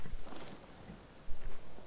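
A horse in the Skyrim video game walks with soft, uneven clip-clop hoof steps over a steady hiss of ambient noise, fairly faint and without speech.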